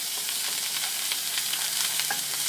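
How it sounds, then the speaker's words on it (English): Olives and capers sizzle steadily while frying in a pan for gluten-free pasta puttanesca, a dense continuous crackle with occasional brighter pops. "There's something about frying olives and capers that transforms their flavor."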